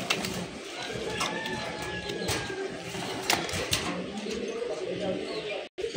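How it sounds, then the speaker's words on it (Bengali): A pair of red patti pigeons coo softly and repeatedly at close range, their low calls mixed with rustling and faint background voices. "এক জোড়া লাল পাত্তি কবুতর ডিম বসে হয়েছে, ডিম ফুটে যাবে"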